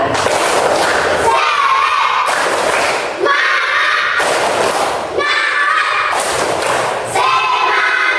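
A class of children stand in a classroom and do a rhythmic spirit clap. Four loud bursts of group clapping repeat in a steady pattern, each separated by a short pause.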